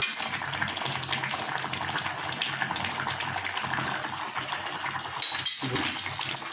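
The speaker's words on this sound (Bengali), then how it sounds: "এবার এখানে নেড়ে দিচ্ছি" Pumpkin payesh with sugar and a little ghee being stirred in a pot, producing a continuous bubbling, hissing wash with soft scrapes and clinks of a utensil against the pot, quiet and without speech.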